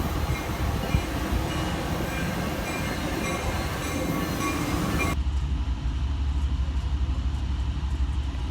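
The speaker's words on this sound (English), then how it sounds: "here comes our train" A train rumbles past close by with a constant heavy roar, which suddenly turns duller and muffled partway through.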